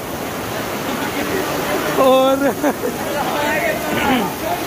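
Storm rainwater rushes and floods through a village, a steady loud roar of flowing water that runs throughout, with someone talking briefly over it.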